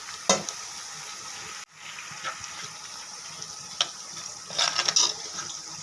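Spices and masala frying in a pan for a Kerala fish curry with kudampuli, a steady close sizzle with a few sharp spoon clinks and stirring scrapes.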